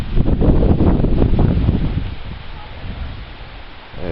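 Wind gusting across a backyard vegetable garden, a loud, rumbling buffet strongest at first, then easing into a softer steady rush.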